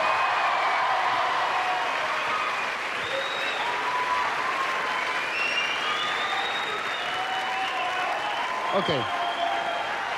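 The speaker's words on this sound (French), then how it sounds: "Applaudissements pour Patrice, le voici," A studio audience at a French television variety show applauds for Patrice Carmouze, a steady wash of clapping that continues throughout, with a host's voice and brief talk over it.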